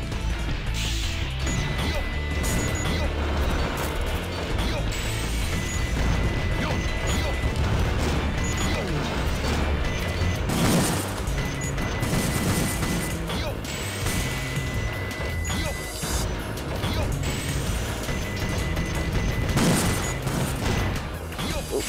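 In Sonic Adventure 2: Battle, a Vulcan Cannon fires repeatedly and smashes iron containers, making dense bursts of gunfire, metallic crashes and thuds over game music, with someone talking over parts of it.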